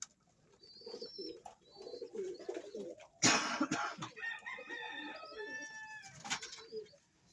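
Breeder pigeons at a loft give soft, low cooing calls in short bursts, close by. Other bird calls and a sharper burst of sound come in midway.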